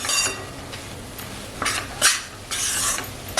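Besan flour roasting in hot ghee while being stirred in a pan: soft, close scraping strokes come in short bursts over a steady low frying hiss, with no voices.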